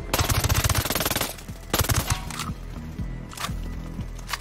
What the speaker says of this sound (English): shoot him with your regular gun now